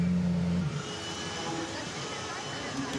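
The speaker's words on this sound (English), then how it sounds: "So into Parc Fermé we come, coming to a stop." A GT race car from the ADAC GT Masters at the Norisring rolls into parc fermé and comes to a stop, with a low engine rumble and steady ambient noise under a commentator's voice.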